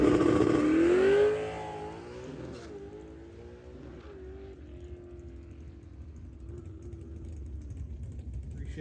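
Drag race car at Drag Week 2023 accelerating down the track, a loud engine roar that drops sharply through a gear shift, then a lower, steadier drone as it pulls away into the distance.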